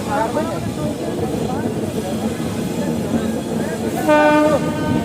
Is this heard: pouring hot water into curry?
no